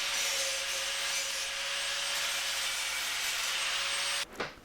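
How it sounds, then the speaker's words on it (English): A grinding disc deburring the edges of a steel battery tray for a Talbot Express camper van gives a steady, loud, continuous rasping whine for about four seconds, then cuts off sharply as the disc spins down. "took all the burrs off the edges as well with a grinding disc"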